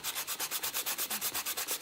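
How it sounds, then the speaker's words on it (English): Rapid, even back-and-forth strokes of sandpaper rubbing on wood, close and steady, about eight strokes per second with no voices. "We'll see if we can do it just hand sanding it."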